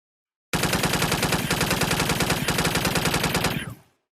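Sustained, loud automatic assault weapon fire used as a sound effect in an audio drama, a rapid unbroken burst of shots lasting about three seconds before cutting off with a short decay.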